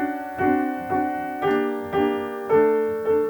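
Soft piano chords are struck one after another in an even rhythm, six gentle attacks that ring and decay, close and alone with no voice.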